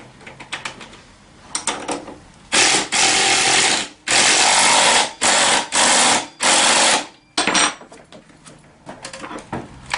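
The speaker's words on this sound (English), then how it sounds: "And your 14 millimeter, just ratchet it down good" A ratchet tightening a 14 mm bolt on the front wheel of a Tao Tao CY50D scooter, loud close clicking in several sustained bursts separated by short gaps.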